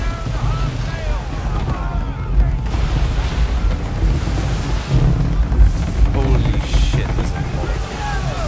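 Steady wind and sea wash around a sailing warship in Assassin's Creed 3 during naval play, a continuous broadband rush with low rumble throughout, rising in surges.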